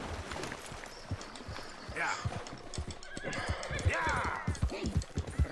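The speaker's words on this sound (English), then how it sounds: "Ven aquí, caballo." A horse in Red Dead Redemption 2 whinnies, with clip-clopping hooves and a flowing-water backdrop, while someone talks over the game sounds.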